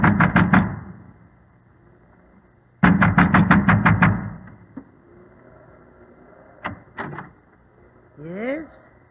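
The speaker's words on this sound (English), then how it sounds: "A man wrapped in an oilskin and wearing gigantic boots was pounding at the door of the windmill." A man in an oilskin and gigantic boots pounds on a windmill door in an old radio drama: two loud bursts of rapid knocking, a short volley then a longer one, followed by a few scattered thumps and a creak.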